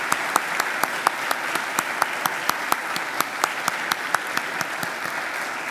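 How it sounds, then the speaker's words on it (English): A large crowd of university graduates at a Macquarie graduation ceremony applauds their family and friends, a steady, full wash of clapping with a few sharp individual claps standing out throughout. "give them a mighty round of applause"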